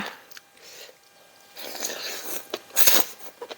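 Crisp, crunchy chewing up close of a spicy Thai glass noodle salad, a series of wet bites and crunches with louder bursts toward the end, no talking.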